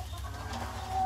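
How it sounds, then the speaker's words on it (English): A chicken clucking nearby, one short, soft clucking call over a low steady background rumble, faint and brief. "The chicken's scaring me."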